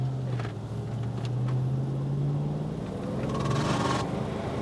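A 1936 Ford pickup truck engine pulling away under throttle, a steady low droning rumble heard from inside the cab, with pitch rising gradually and a brief surge near the end.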